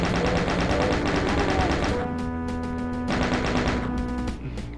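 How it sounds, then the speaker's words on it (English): Repeated shots fired at a wall in the Doom wad "Water Control": a dense run of gunfire over loud, continuous game noise, with sharper individual bursts standing out in the second half. "As I waste like 2 clips on that wall there"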